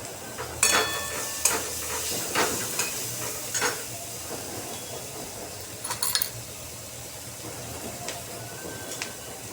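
Cumin and mustard seeds sizzle in hot oil for masala rice, a steady broadband hiss with scattered sharp crackles and pops throughout, close and moderately loud, with no voices.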